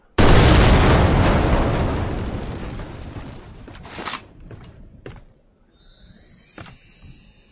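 A grenade explodes in the video game Deadfall Adventures at an arctic base, a single loud boom that rolls and fades over several seconds, followed by scattered debris clatter and faint high ringing.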